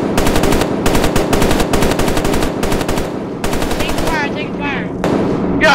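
Gunshots in a short film, loud rapid automatic bursts in several rattling strings separated by brief gaps, with a shouting voice breaking in near the end.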